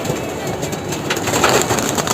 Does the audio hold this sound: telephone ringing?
no